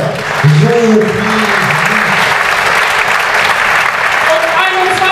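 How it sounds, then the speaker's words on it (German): Loud, steady audience applause at a poetry slam in a bar, with a few voices calling out over the clapping near the start. "Eine 7, Applaus für Sophie."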